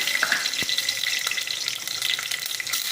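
Whole spices—cinnamon stick, cardamom and cloves—with garlic frying in hot oil for a biryani-style tomato rice, giving a steady close crackling sizzle with small pops throughout, no talking.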